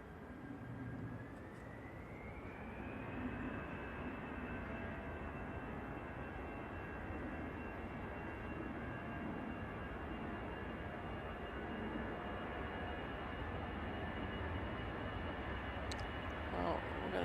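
An airliner arriving at Manchester Airport, crabbing in a crosswind, gives a steady, fairly distant engine roar with a rising whine that holds throughout, while people talk over it.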